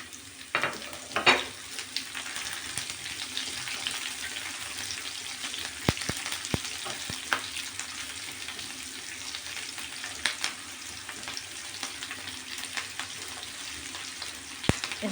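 Onions sautéing with chicken gizzard and liver, a steady moderate sizzle and crackle in the pan, punctuated by a few sharp clicks and scrapes of stirring.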